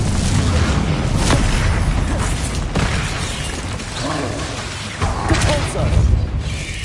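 A Bombarda explosion spell goes off in Hogwarts Legacy, a loud booming blast with crackling bursts layered over a dense, continuous wash of game combat noise.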